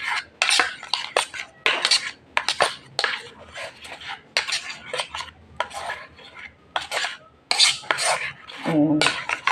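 A spoon repeatedly scrapes and clinks against a bowl while mixing hair conditioner, vinegar and keratin, quick rhythmic bursts of scraping close by with no talking.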